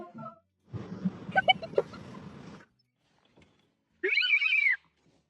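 A cat gives a mewling, caterwaul-like call, then after a silent pause lets out one clear, close, drawn-out meow.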